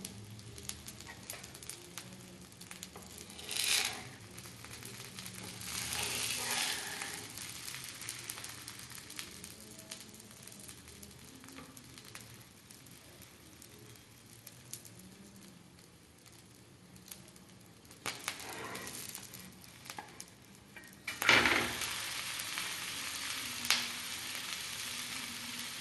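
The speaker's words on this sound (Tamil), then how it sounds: "எண்ணெய் ஊற்றி கொஞ்சம் மெல்லமாக தான் வேகணும். இது மீடியம் ஃப்ளேமில் வச்சுக்கோங்க." An onion podi uttapam fries in oil over a medium flame, giving a soft, steady sizzle that runs throughout, with a few louder bumps, faint and close, and no voices.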